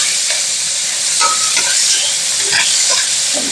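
Bacon frying in a pan makes a loud, close, continuous crackling sizzle with occasional sputters and light stirring, and no voices are heard.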